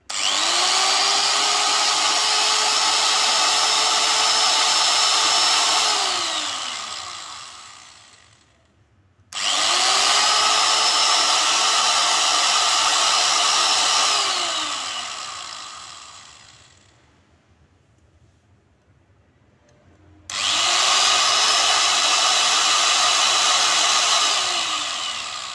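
A Mailtank SH05 angle grinder is switched on three times, each run a loud, close, high whine that spins up, holds steady for several seconds, then winds down into near silence before the next start.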